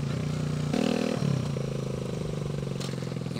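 Small motorcycle, a Honda Grom or Kawasaki Z125, cruising through a quiet local park, a steady buzzing engine drone that shifts pitch as the rider changes gear, close and continuous with wind rush.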